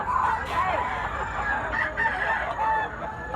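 A bullstag rooster crows repeatedly nearby, its calls clear over a low background hum and faint chatter.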